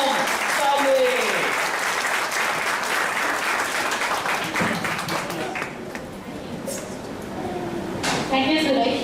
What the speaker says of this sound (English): please give a round of applause for Poonam Tambe.